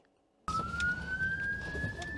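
A British ambulance siren cuts in abruptly after a quiet moment, a loud, steady rising wail over heavy road noise.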